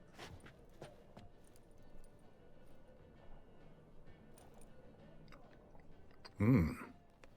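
Dumpling being eaten in The Witcher 3, a single short burst of close, loud chewing and biting near the end after a stretch of quiet game ambience.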